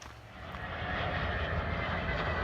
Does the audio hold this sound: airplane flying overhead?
yes